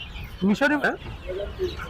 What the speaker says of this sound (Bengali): প্রচুর পরিমাণে টাইগার মুরগির বাচ্চা আছে